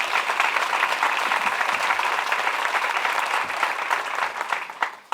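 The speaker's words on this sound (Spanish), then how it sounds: "Un aplauso para Encarni, que se lo merece" Sustained audience applause for the presenter at a book launch, a dense steady wash of many hands clapping close by that tapers slightly near the end.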